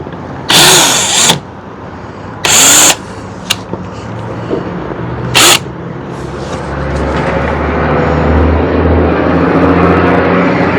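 Chasing rivet nut holes on a 2015 Dodge Challenger: three short, loud bursts of a power drill whirring with quiet gaps between, then a rising steady background rumble.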